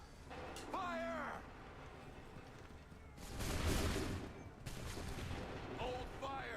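A musket volley in Assassin's Creed III cracks out as a loud ragged burst of gunfire that rolls into a second crackling blast. Voices and shouting from the game can be heard around the shots.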